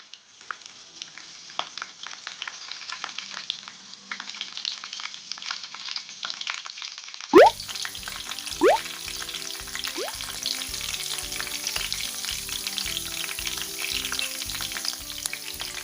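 Cumin seeds and curry leaves drop into hot oil in a pan, starting with a quiet faint hiss before a sudden loud burst of spattering, then a sustained crackling sizzle with a few stirs.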